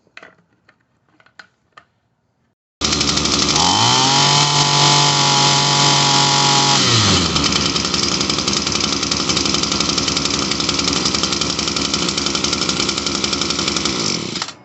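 A few faint knocks, then the small two-stroke engine of an Echo SRM-230S string trimmer roars to life and runs steadily at a high, buzzing idle, loud and close.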